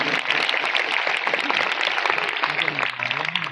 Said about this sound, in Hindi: जोरदार तालियां बजाएंगे खुदा के लिए,